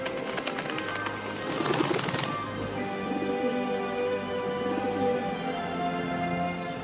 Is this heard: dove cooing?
yes